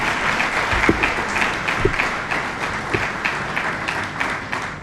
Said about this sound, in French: On mérite une fois de plus des applaudissements.